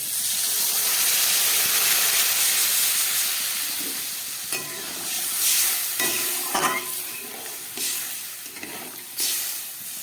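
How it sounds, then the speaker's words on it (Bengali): Water is poured into a pan of sautéed kohlrabi and potato, a steady loud sizzling hiss that settles into softer bubbling and stirring clinks, with no talking. "ওলকপি আর আলুটা কষানো হয়ে গেছে এবার দিয়ে দিচ্ছে আমি পরিমাণ মতো জল"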